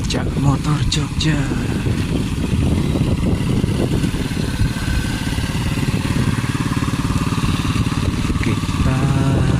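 Motorcycle engines buzz and rumble steadily on a road in Yogyakarta, loud and close throughout, with a rattling burst near the start and traffic noise behind.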